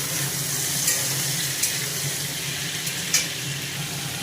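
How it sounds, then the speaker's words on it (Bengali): Carrots and potatoes fry in hot oil in a wok with bay leaf and capsicum, a steady close hiss of sizzling broken by a few sharp stirring scrapes. "তারপরে কড়াইয়ে তেল গরম করা হলো আর দেওয়া হলো ওর মধ্যে তেজপাতা, ক্যাপসিকাম, তারপরে দেওয়া হলো এর মধ্যে কেটে রাখা গাজর আর আলু"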